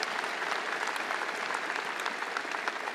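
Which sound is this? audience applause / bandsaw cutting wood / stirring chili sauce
audience applause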